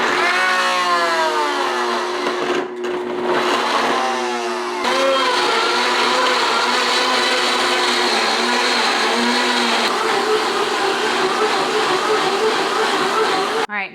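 A blender whirring loudly as it blends celery into a slushy, its motor pitch shifting and settling into a steady high roar that runs to the end before cutting off.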